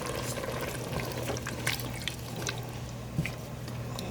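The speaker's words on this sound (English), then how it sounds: "Okay, now I'm adding my tomato sauce" Tomato sauce is poured into a pot of stewed okra and tomatoes, a steady close wet pour with a few small splats and glugs over continuous background hiss.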